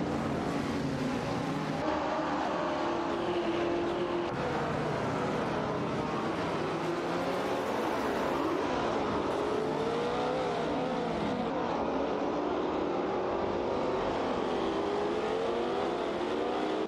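Race cars in a racing video game, a McLaren M6 GT and a Ferrari 330, roar continuously with shifting engine pitch as revs climb and fall, several engines overlapping loudly throughout without pause.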